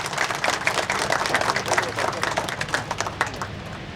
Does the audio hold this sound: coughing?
no